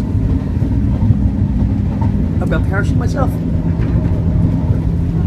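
A warm passenger train rolls steadily along the rails, a constant low rumble throughout, while someone talks over it.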